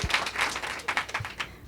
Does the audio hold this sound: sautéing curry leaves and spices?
no